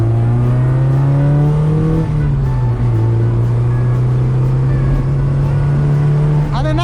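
Porsche 944 engine pulling hard from low speed, a loud steady drone that rises and dips slightly as the car accelerates, heard from inside the cabin.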